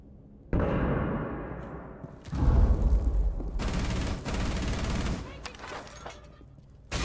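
Bursts of gunfire in a round of a tactical shooter game, loud and clustered in volleys over a few seconds, with background game noise and some voice activity around it.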